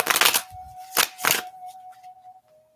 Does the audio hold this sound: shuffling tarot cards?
yes